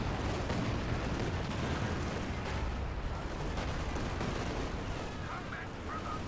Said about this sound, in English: Because they're actually getting hit pretty good by rockets here. Stuka fires. Fire comes down.